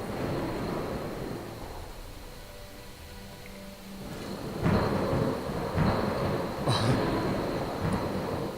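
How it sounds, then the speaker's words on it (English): Thunderstorm in The Universim god game, with a steady wash of rain and wind underneath and several loud, near rumbling thunder cracks rolling in over the second half. "That storm's a bit close for comfort."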